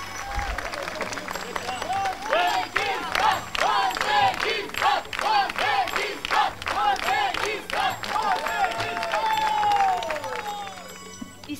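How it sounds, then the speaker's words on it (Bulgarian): Audience at the Eurofolk 2019 European folklore championship dance competition breaking into loud applause mixed with excited cheers and shouts that swell and stay strong, then taper off near the end. "Аплодисменти отново!"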